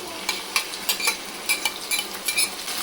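Marinated chicken and softened onions sizzle in a pan over medium heat, a continuous frying hiss punctuated by frequent clinking scrapes of a spatula stirring against the metal.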